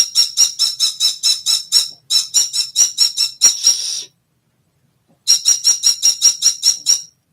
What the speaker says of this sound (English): Little bird, shush.